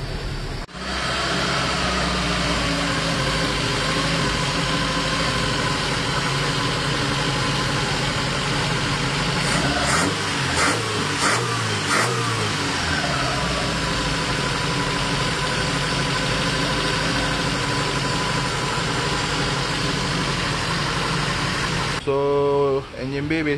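Restored 1986 Proton Saga 1.5S petrol engine idling in the engine bay, a steady close rumble that holds almost unbroken for over twenty seconds, with a few brief revs or clicks partway through.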